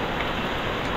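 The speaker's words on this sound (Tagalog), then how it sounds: "ayan na naman ang lakas ng ulan" Heavy rain pours down at a red tilapia fish farm, a loud, dense, unbroken roar of drops lasting the whole moment.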